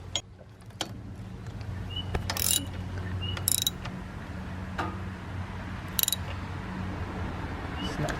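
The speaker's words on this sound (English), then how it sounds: "we're just going to do it with a wrench" A wrench turns a bolt on a Subaru 2.5L engine during replacement of the oil pressure sending unit, making sharp ratcheting clicks in short bursts at close range while people talk.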